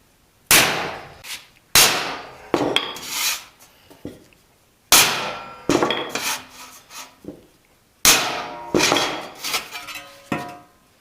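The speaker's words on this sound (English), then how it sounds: "Nope, that's going to require the hammer. Okay, so hammer it is." Bursts of metallic banging and scraping as a hammer pounds a damaged car rocker panel, several quick hits in clusters separated by short pauses, loud and close.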